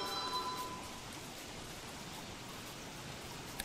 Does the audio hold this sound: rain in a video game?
yes